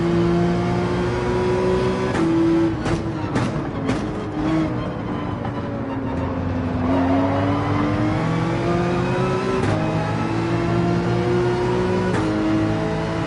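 Ford Mustang race cars in Gran Turismo 7 drone steadily around a track at Maggiore, a continuous engine whine that rises and dips in pitch as gears change, with brief sharper bursts from nearby cars.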